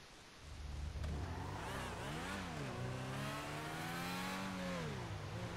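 A retro 1980s-style car in the video game GTA 5 accelerates, the engine droning loudly with rising and falling revs as it shifts through gears, heard alone.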